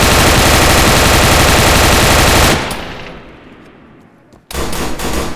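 Sustained automatic weapon fire in ARMA 3, loud and close as a continuous rapid burst, then a pause with fading echo before another loud burst starts.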